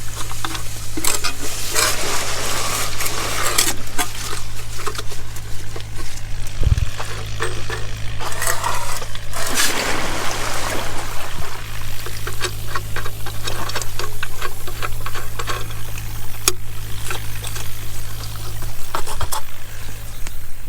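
Irrigation water rushes through an opened valve and pipe in a constant, loud, broadband flow with a low steady hum beneath and small clicks and splashes scattered throughout.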